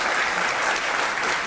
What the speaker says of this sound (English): please allow them to applaud